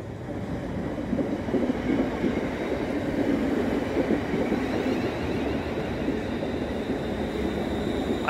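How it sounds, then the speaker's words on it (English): West Midlands Railway passenger train rolling along the rails, heard from on board as a steady rumbling drone with faint clatter, continuous and fairly loud, with no voices. "The 6:53 West Midlands Railway service to Rugeley Trent Valley is delayed."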